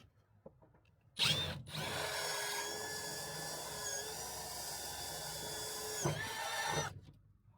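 A power drill drilling aluminum whines loudly and steadily for several seconds after a brief start, then spins down, with small clicks before and after.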